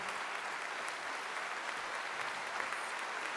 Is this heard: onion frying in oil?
no